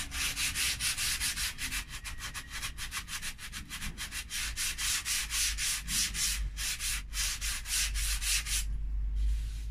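A clock piece is hand-sanded with sandpaper in quick rhythmic back-and-forth strokes, loud and close, with the rasping stopping briefly near the end.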